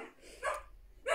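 Dogs at a house barking in short bursts, two sharp barks about half a second apart, fairly faint and alone.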